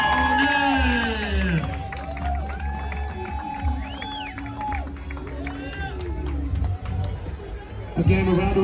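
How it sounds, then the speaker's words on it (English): Crowd at a Laredo, Texas car show cheering and clapping for award winners and car clubs, a broad wash of applause, whoops and chatter that swells loudly, then settles under ongoing babble. "Again, a round of applause for all of our winners tonight and all of the car clubs, all of these wonderful cars."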